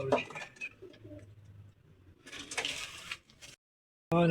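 Pigeons in a loft, with soft cooing and bird calls in the background under nearby movement and rustling, fading to a brief silence before a sharp, loud burst.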